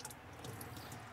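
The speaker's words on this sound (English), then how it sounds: "I'm going to go ahead and rinse." Water splashing and trickling as used buffing and polishing pads are rinsed under a tap, a soft steady wash of running water close by with small drips, quiet and without talk.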